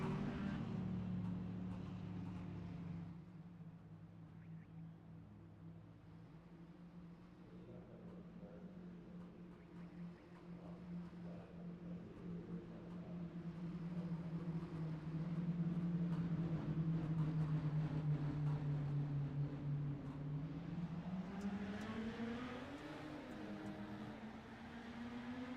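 Dirt mini stock race cars in an iRacing league race drone together at a steady engine pitch, rising and swelling as the field accelerates, a continuous layered hum of several motors throughout.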